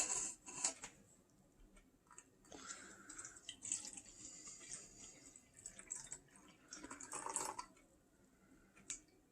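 Warm water poured into a bowl of flour for homemade tortilla dough, a faint trickling splash in irregular bursts with soft clinks and pauses between pours.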